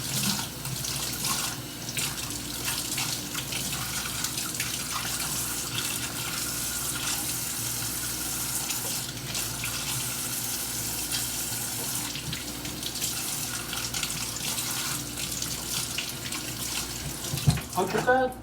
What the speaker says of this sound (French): Je vais rincer les ciboules et puis je vais les couper. Pour bien les laver.